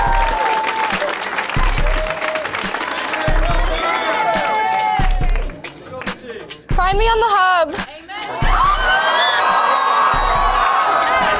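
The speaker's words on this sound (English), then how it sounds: "Y'all cheering now" A studio audience bursts into loud applause, cheers and whoops in repeated waves, with brief dips between, while a voice talks over the crowd.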